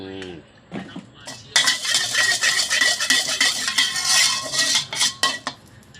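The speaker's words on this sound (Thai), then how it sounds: "ใส่พริกผัดครับพี่น้อง พริก ที่เตรียมไว้ครับ" A metal utensil scrapes and clatters against a pan while chili is stir-fried in oil, with busy, close stirring sounds and a voice speaking briefly at the start.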